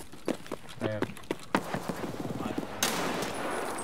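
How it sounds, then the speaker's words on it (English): Gunfire in the shooter game Escape from Tarkov, a quick sequence of sharp shots followed by a rapid burst, mixed with footsteps and voices talking over it, ending in a louder noisy rush. "You shot me, Joseph"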